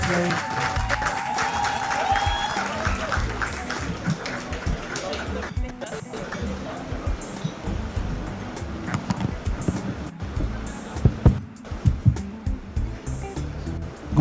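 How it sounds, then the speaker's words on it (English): An audience at an insurance industry conference applauds a speaker in a hall, with sustained clapping mixed with talk and crowd murmur. "Please a round of applause for him."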